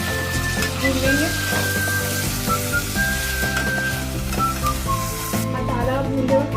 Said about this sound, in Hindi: अब इसके अंदर हम डालेंगे अदरक लहसुन। सबसे पहले 1 टेबलस्पून लिया है हमने, इसे भी हम भून लेंगे।